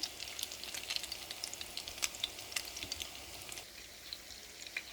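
Salmon croquettes frying in oil in a pan, a soft steady sizzle with scattered crisp pops and spits, close but fairly quiet, no voices.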